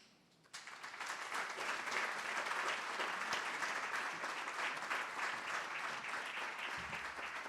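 Hearty audience applause at an awards celebration starts after a brief quiet moment and then swells into a full, sustained ovation of many hands clapping.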